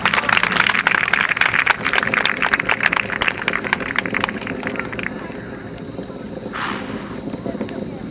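A SpaceX Falcon 9 rocket climbs away from Cape Canaveral on its nine Merlin engines, giving a distant, steady crackling roar with rough bursts that fades somewhat toward the end.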